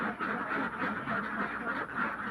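Ducks quacking in a steady chorus, several birds calling close by in continuous overlapping, raspy quacks.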